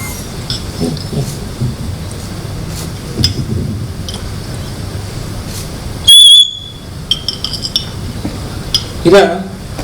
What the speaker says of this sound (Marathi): ही मातीची शिट्टी आहे